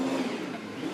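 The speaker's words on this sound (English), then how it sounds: "They're warming the car up" A Supercars race car engine revs loudly and continuously during warm-up in a garage at the Townsville 500, a dense, roaring mid-pitched drone with slight rises and dips.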